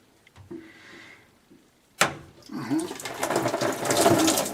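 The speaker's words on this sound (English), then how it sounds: "There you go, water pours out and I have a bucket ready there." Water gushes from a Worcester Bosch 38 CDi boiler's condensate trap into a bucket after a soft clunk, building to a steady, close splashing pour.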